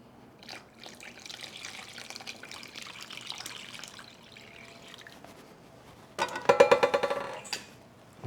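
Water trickles and splashes softly for several seconds, then a louder pour with bubbly gurgling swells briefly near the end.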